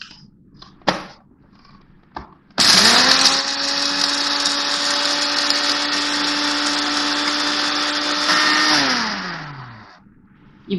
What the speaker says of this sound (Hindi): अब मैं इसको पीसूँगी